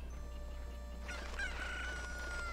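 A cucco, the chicken from the video game The Legend of Zelda: Ocarina of Time, lets out a single clear crowing call midway through, over steady background game music.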